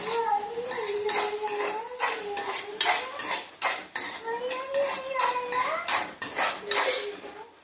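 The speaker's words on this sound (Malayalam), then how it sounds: "ഇനി ഇത് നമുക്ക് നന്നായിട്ട് ഇളക്കി യോജിപ്പിക്കാം" Karamoosa (papaya) upperi stir-fry being stirred in a pan, with a spoon repeatedly scraping and clattering against the metal in a steady, busy rhythm throughout.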